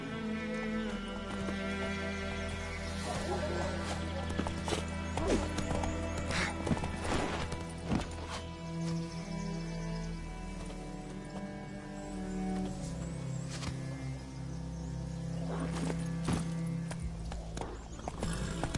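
Roach the horse gallops in The Witcher 3, with steady clip-clop hoofbeats over a music-laden game soundscape for nearly twenty seconds, moderately loud and continuous.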